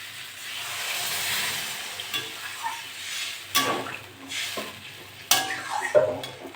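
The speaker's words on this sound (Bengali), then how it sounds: "আমি এবার জল দিয়ে দেবো।" Water poured into a pan of spiced shrimp frying with white greens stems sets off a steady steam-laden sizzle, with two sharp louder hissing bursts and stirring scrapes close by.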